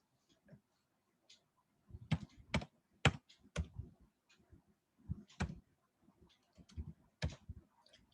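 Keys clatter on a computer keyboard as text is typed, irregular bursts of crisp close clicks separated by short pauses, with no voices.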